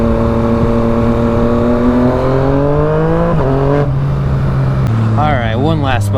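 A Yamaha FZ-09 motorcycle revs loudly at close range, its engine note climbing in pitch before sharp throttle chops cut it back, followed by further quick blips.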